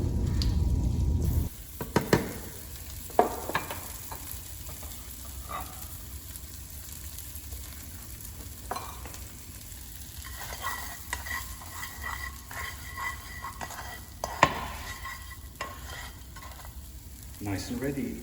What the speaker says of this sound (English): we add our butter into the pan, let it boil